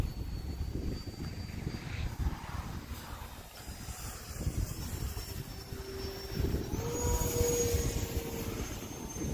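An E-flite Turbo Timber Evolution RC plane takes off and flies at a field, its electric motor whining faintly and shifting in pitch as it climbs and passes, under light wind noise.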